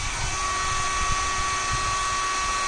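Panasonic hair styler running on its heat settings, giving a steady, close whirring motor hum with a high airy whine, unbroken and alone throughout.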